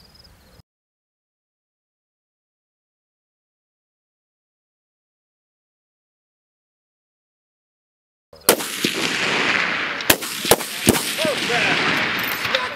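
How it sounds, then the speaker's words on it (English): Precision rifle shooting at a moving target 400 yards away outdoors: after a long silence, several sharp, loud shots crack in quick succession over a steady background of wind noise. "Sight number two, watch it shoot, watch it shoot."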